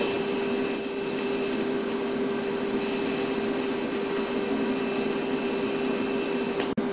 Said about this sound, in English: the first thing I'm going to demonstrate is a tack weld with the TIG welder